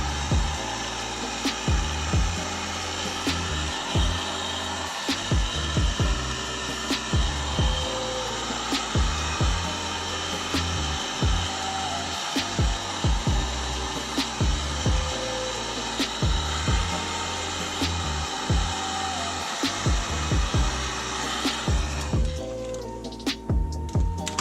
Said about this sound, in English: I'm going to dry it off with a heat gun